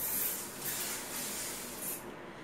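Ruby Rose thermal water facial spray is misted in several short, close hissing bursts, each a soft airy puff separated by brief quieter gaps.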